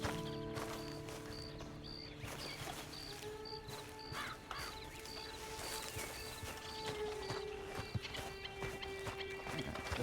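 A horse walks in Red Dead Redemption 2, its hooves clip-clopping in a steady rhythm against a game soundscape with crows cawing and ambient tones, no talk over it.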